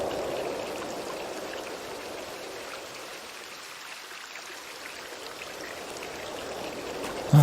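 A stream of water runs steadily in a fantasy adventure game, a soft continuous hiss and trickle that dips slightly in the middle and rises again, with no voices.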